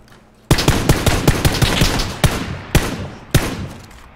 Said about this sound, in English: I only had to shoot that guy once.